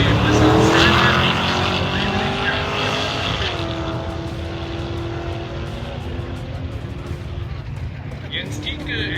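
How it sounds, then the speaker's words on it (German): A Nissan drag racing car at a German drag strip launches with a loud, close engine roar and tyre noise, then pulls away, its pitch rising through the gears as it fades into the distance. "Sven Eberhardt mit dem Nissan"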